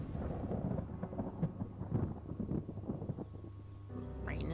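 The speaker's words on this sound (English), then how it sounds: "rain is lessening again" Rain and rolling thunder in the video game The Talos Principle, a steady low rumble with broadband patter throughout, fairly close and continuous, ending with a soft tonal swell.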